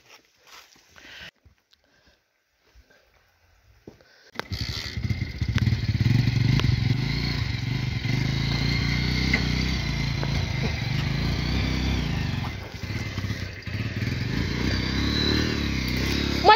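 A motorcycle engine starts up after a few quiet seconds and keeps running with a steady rumble, close by, with faint clatter around it.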